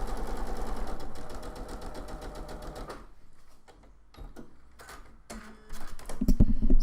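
A sewing machine stitches fabric a quarter inch from a drawn line: a steady, fast mechanical whir for about three seconds, then quieter intermittent clicks and handling before louder knocks at the end.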